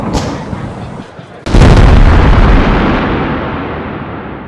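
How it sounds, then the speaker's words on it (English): A howitzer fires at the MCAS Miramar air show: after a windy outdoor lead-in, a single huge blast bursts in and rolls into a long, slowly fading rumble. "Now I'm gonna fire the howitzer."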